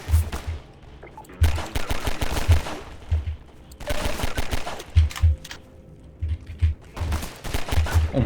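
Rapid bursts of gunfire from Half-Life 2: Episode One come in loud, repeated volleys separated by short quiet gaps, close and punchy with a deep low thump under each burst.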